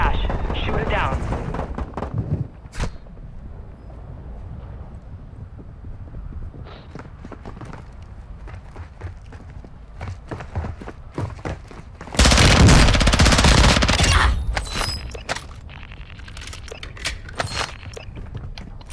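Gunfire aimed at an attack helicopter carrying cash in Warzone: scattered shots and bursts, with one loud, sustained barrage roughly two-thirds of the way through, while players talk over the game sounds.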